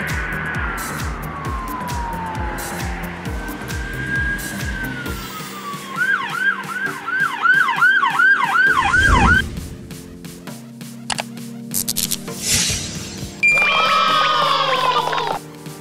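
Police car sirens wail and yelp in sweeping rising-and-falling cycles over passing road traffic, shifting between slow wails and rapid yelps, loud and close, with a brief burst of talk partway through.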